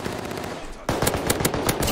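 Pistol shots ring out in a Warzone battle royale match, several sharp close cracks in an uneven burst following a quieter stretch, loud and dense over game background noise.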